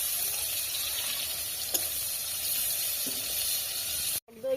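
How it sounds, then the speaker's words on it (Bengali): Onions being deep-fried until crisp for a hilsa biryani, with a steady, even sizzle and hiss that goes on for several seconds. At the end it cuts off abruptly, followed by a brief muffled bump. "এই পেঁয়াজটা খুব কড়া করে ভাজবো।"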